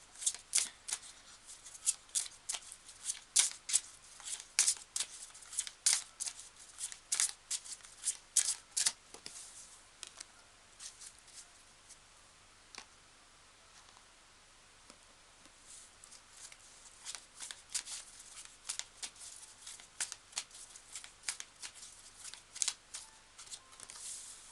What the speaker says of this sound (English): We pull some more cards.